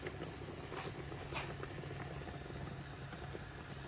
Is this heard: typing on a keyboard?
no